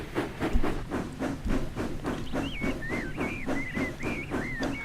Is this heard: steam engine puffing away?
yes